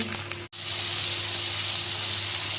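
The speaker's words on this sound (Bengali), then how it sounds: "এখন এটাকে ভালো করে ভাজতে হবে।" Garlic and green chilies sizzle steadily in hot oil for a masoor dal tadka, a continuous close frying hiss broken by one brief silence near the start.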